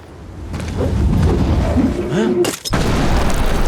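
Land mines used as grenades explode in the 2022 war film Sisu, heard as loud, deep rumbling booms with a sharp burst of blasts midway and heavy low rumble throughout.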